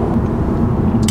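A BMW M340i drives along with a steady, loud low road and engine rumble throughout this short stretch, with no talking.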